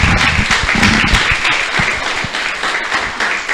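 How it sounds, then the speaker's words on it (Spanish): Congregation in a church service giving a strong round of applause, close and loud dense clapping that holds steady and thins slightly toward the end. "Le damos un fuerte aplauso a Él, por favor"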